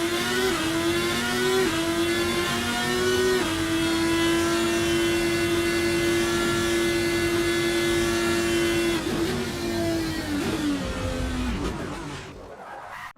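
A race car in the Assetto Corsa video game drives a warm-up lap, its engine droning steadily with a few rises and dips in pitch as it shifts, then dropping away near the end.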